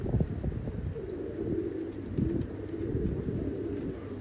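A male pigeon coos steadily in a loft among other pigeons, with low, repeated rumbling calls running throughout at close range.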